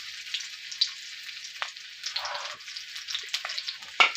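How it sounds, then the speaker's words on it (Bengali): Chopped onion, bay leaf and green chili fry in oil for a sweet pumpkin bhaji, giving a continuous crackling sizzle with scattered pops and spits. "এবার আমরা দিব পেঁয়াজ কুচি, তেজপাতা, কাঁচামরিচ"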